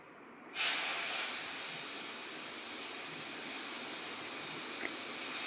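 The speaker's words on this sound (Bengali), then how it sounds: "যে অবশিষ্ট তেলটা থাকলো এর মধ্যে আমি বাটা ধনেপাতাটা দিয়ে দেব" Ground coriander-leaf paste tipped into hot oil left over from frying paneer bursts into a loud sudden sizzle, then settles into a steady, slightly quieter hiss with no talking.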